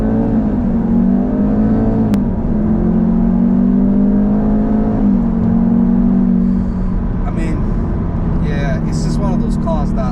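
A Jaguar F-Type 2.0L four-cylinder, a 2018 P300, holds a steady, loud, droning rev that wavers slightly in pitch. The engine eases off near the end, and brief voices can be heard faintly.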